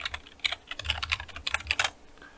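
Fast, uneven clicking of keys typed on a computer keyboard during PowerShell scripting work, a close burst of keystrokes with small pauses and no talking.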